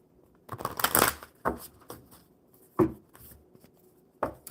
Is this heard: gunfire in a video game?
no